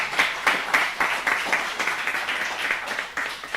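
An audience at a lecture event applauds, a dense spread of many hands clapping that holds steady, with some pulsing, all the way through.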